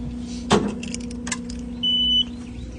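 The ignition of a Takeuchi skid steer that won't start is switched on, bringing a click and clunk followed by a single short high warning beep, close and clear.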